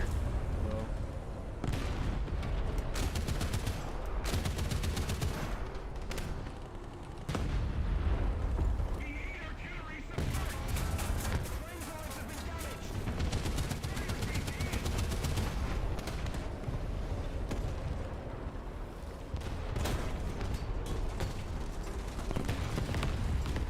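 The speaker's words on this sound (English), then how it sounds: "Oh, I got artillery." Video game artillery fire on a budget PC, dense loud booms and rapid bursts of gunfire pounding continuously through a chaotic battle soundscape, with occasional speech underneath.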